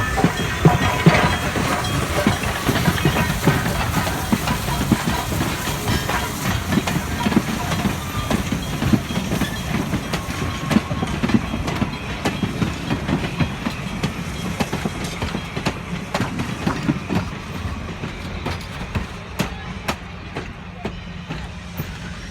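Three Canadian Pacific 0-6-0 steam switcher locomotives run at a heritage railway, with a steady low rumble, rhythmic clanking and bursts of hissing steam throughout, fairly close and continuous with no talk.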